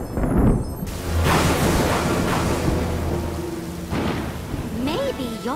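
Thunderstorm with rain in an animated children's episode: a continuous broad rumble and rush of wind and rain with rolling thunder swells, loud throughout, with a magical shimmering effect near the end.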